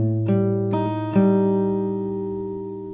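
An acoustic guitar plays part of a song: three plucked notes added one after another over a ringing chord, each letting the strings sustain and slowly fade, clean and close.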